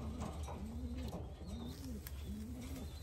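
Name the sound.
racing pigeon cooing at loft entry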